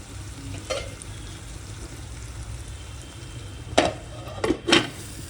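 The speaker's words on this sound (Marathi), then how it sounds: "व्यवस्थित आपण एकत्र करूया आणि बारीक गॅसवर आपण 2 मिनिटं शिजवून देऊया." Stuffed bitter gourd stirred in a pan over low heat, with a soft steady sizzle and a few sharp spoon-and-pan scrapes near the end, no talking.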